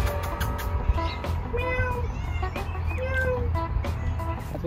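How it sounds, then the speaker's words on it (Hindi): A cat meows several times in short, rising calls over a steady low hum of background noise, indoors out of the heat in Muscat, Oman. "आ रही है बिल्ली"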